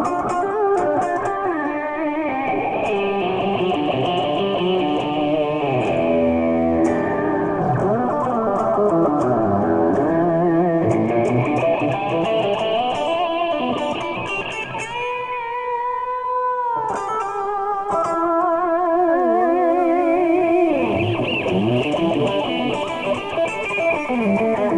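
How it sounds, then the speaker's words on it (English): Fast echo from an MFOS Echo Rockit delay module on a synthesizer tone, sweeping pitched notes repeating in quick rapid repeats that blur into a continuous, loud, shimmering wash with no talking. "a nice fast echo"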